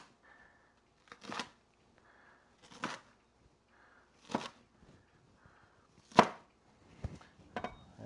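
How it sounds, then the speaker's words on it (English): A new curved knife slicing through pieces of okra, producing four or five short, crisp cuts spaced about a second and a half apart, close-up and quiet with near silence between them. "cut through the okra pretty good"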